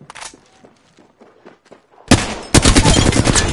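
Heavy gunfire from a video game battle, beginning with a few faint distant taps and then erupting into loud, sustained bursts of rapid shots close by.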